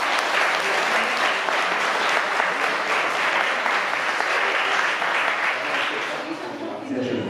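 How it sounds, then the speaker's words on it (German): A crowd at a fire station open day in Wuppertal Ronsdorf claps hands loudly and continuously, a dense sustained wash of applause that fades slightly near the end. "Also einmal alle kräftig in die Hände klatschen."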